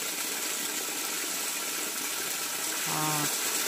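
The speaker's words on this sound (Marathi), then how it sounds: "हे बघा पाणी आलं ना नळाला, किती फास्ट पाणी आहे बघा." Fast tap water gushes in a continuous broadband rush from a village household faucet, loud and close, with a short low tonal hum near the end.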